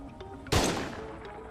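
A single loud, close gunshot rings out in the video game Schedule I, a sharp crack with a short decaying tail after quiet background ambience.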